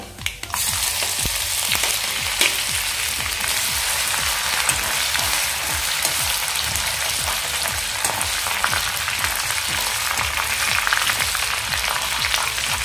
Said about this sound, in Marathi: आता आपण पहिल्यांदा यामध्ये आलं लसूणचा ठेचा टाकूया